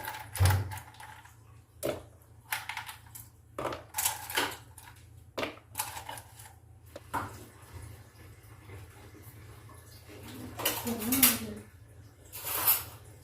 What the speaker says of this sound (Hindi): अब हम इसमें बर्फ डालेंगे ताकि ये ठंडा हो जाए।